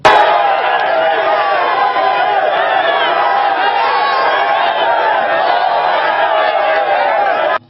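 A festive crowd at Wadata market in Niger cheers and shouts continuously and loudly throughout, a dense wall of voices greeting an activist.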